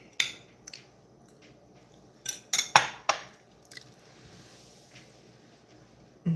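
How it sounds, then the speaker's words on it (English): A pan and a measuring cup being cleaned, with scattered clanks, scrapes and knocks of metal and cookware at close range, separated by quiet pauses. "Now to clean the pan or the measuring cup."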